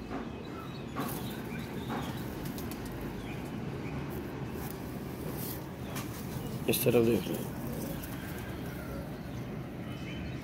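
Low pigeon coos from long-feathered pigeons kept in a coop, heard close amid a steady background of bird calls and rustling, with someone talking over them and a brief louder burst near the middle.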